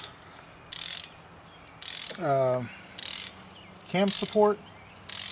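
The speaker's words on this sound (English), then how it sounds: "The valve cover also gets the same 88 inch pounds of torque" A ratchet torque wrench clicks in quick bursts while tightening valve cover bolts on an Audi engine during a cam chain and tensioner repair, sharp close ratcheting strokes separated by pauses, with brief speech in between.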